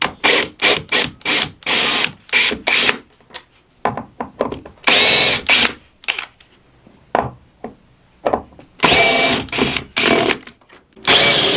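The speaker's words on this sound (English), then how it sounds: "I'm going to use my screw gun and just remove the screws" A screw gun whirs in a string of short bursts removing screws from a door, stopping and starting repeatedly, close and loud, with brief quiet gaps between runs.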